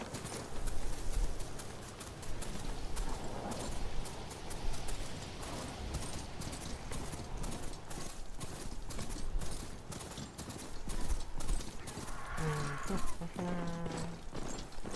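Rhythmic hoofbeats of a ridden mount in Horizon Forbidden West, a steady clip-clop that carries on throughout under game ambience, with a couple of brief tonal game chimes near the end.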